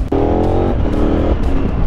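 A KTM 1290 Super Adventure S motorcycle engine revs steadily, then dips briefly as a gear changes, before pulling on again with a continuous close, loud drone.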